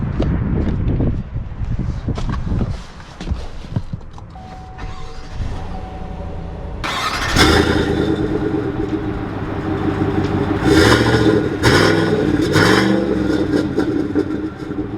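A 2020 GMC Sierra 1500 SLT pickup truck starts moving, its engine rising and revving through several pulls, close and loud with mechanical clicks and cabin noises.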